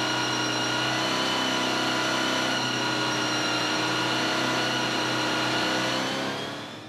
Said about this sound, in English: An impatient Johan Fourie and Simon Moss ready to pounce when the revs go into the red.